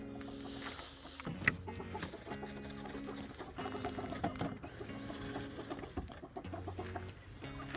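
Hens in a coop cluck in short, scattered bursts near and far, mixed with rustling and clatter from the flock, with no voices.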